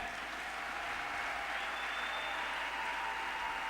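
Church congregation applauding steadily, a dense continuous wash of clapping throughout with no speech over it.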